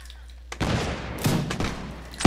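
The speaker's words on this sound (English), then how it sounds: "Light infantry. There we go. Fire." A volley of light infantry muskets fires in a Napoleonic warfare video game, with several loud, overlapping bursts of gunfire in quick succession and a final sharp crack.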